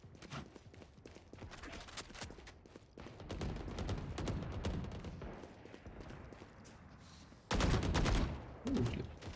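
Rapid bursts of video game gunfire spray in dense, rattling volleys, with a louder close burst near the end and brief gaps between strings of shots, no voices.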